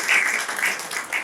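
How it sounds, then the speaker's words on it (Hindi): An audience at a Hindi stage play breaks into loud applause, a dense, steady wash of many hands clapping together that rises and dips slightly over its brief span, with no talking. "जोरदार तालियां।"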